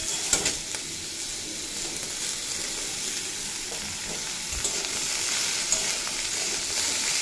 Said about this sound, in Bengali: এবার এর সাথেই এড করে দেব থেতো করা অল্প আদা, দিয়ে সামান্য নাড়াচাড়া করে নেব। আর এড করে দেব কুমড়ো।